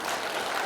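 A short, even burst of clapping from a seated audience at a Seoul policy forum on semi-industrial zones, a dense, moderately quiet patter with no voices.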